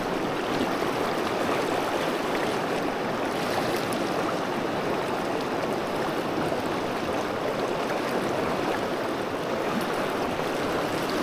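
A river flows steadily where an angler wades across, its water rushing in a dense, even wash that stays close and constant throughout, with no voices.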